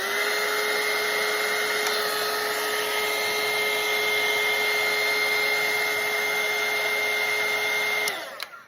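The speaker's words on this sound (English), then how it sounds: "So I'm just going to hit it with my dryer," Hair dryer blowing steadily to dry a watercolour painting, a loud continuous whir that holds for about eight seconds and then switches off and winds down at the end.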